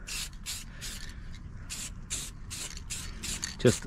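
Short bursts of lacquer spray paint hit a 1966 Corvette drive shaft in repeated quick passes, close and fairly loud, with a low background rumble and no talking.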